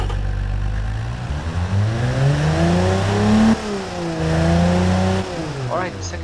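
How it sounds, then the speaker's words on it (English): A tuned car engine breathing through a new aftermarket exhaust revs up and down in several rising and falling sweeps, loud and close, with a deep droning tone between the throttle blips. "Let's hear the new exhaust system."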